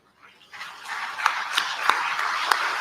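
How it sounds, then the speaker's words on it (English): Conference audience applause at an international investment gathering in Kilifi, rising from quiet into steady, dense clapping that holds at moderate loudness with a few sharper individual claps standing out. "we give them an applause"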